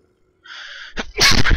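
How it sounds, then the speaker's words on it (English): A single loud, close sneeze after a brief quiet breathy intake. "And there's a sneeze."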